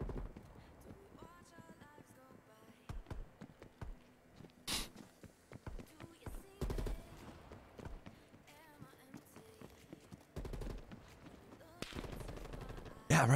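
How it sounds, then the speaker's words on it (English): Gunfire sounds in Call of Duty Cold War as scattered sharp shot bursts and rapid volleys over a background of game footsteps and effects, with a player talking at times. "He shot at me, but he didn't."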